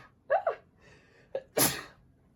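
Woman sneezes close to the microphone during a tarot card reading, with a sharp gasping intake and a short catch, then one loud explosive burst.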